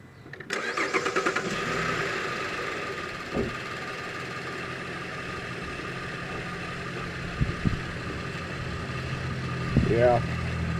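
A Chevy Traverse with a purge valve solenoid stuck open cranks and starts, the engine catching and settling into a steady idle, with a few clicks and a voice speaking briefly near the end.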